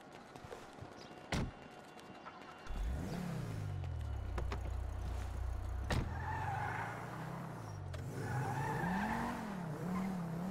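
A car in GTA 5 starts with a sharp click, then its engine idles and revs, rising and falling in pitch with tire-like squeals over a steady close rumble; no talk is heard.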